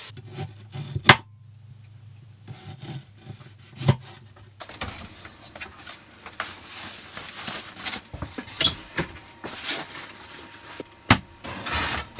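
A knife slices a couple of pieces of unpeeled ginger on a board inside a camper van, with a few sharp, scattered taps and soft scraping between them.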